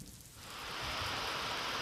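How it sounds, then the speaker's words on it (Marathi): Heavy monsoon rain in Maharashtra swells into a loud, dense roar that quickly settles into a steady downpour. "राज्यात सर्वदूर मुसळधार पाऊस या ठिकाणी होत आहे"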